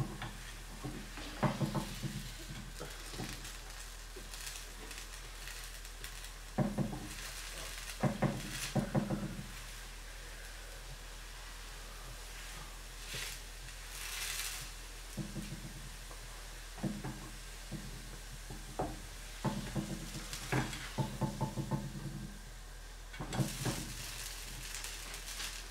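Moroccan semolina harcha browning in a pan, a soft steady sizzle under faint kitchen clatter, with scattered clinks and knocks of utensils throughout.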